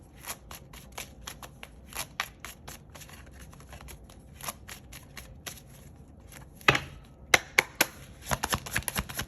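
Tarot cards being shuffled and drawn, with soft rapid riffling and sharp snapping flicks in irregular clusters, growing denser and louder toward the end, close and alone.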